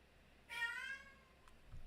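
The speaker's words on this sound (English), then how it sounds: "you hear the cat in the background. He's talking because he's frustrated." A cat meows once in the background of a quiet indoor room, a single drawn-out call that fades before a soft low thump.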